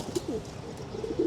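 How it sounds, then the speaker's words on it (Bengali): Pigeons let loose from their loft coo softly in a low, intermittent murmur, a few short rounded calls spread across a quiet indoor-feeling background. "তো কবুতর সবগুলো ছেড়ে দেওয়া হয়েছে"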